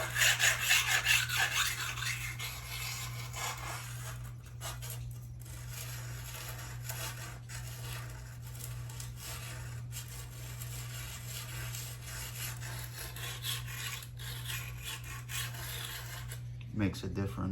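A hand file rasps along the blade of a landscaping tool being sharpened, a sustained scraping rub in repeated strokes at close range, with a steady low hum underneath and a brief clatter near the end.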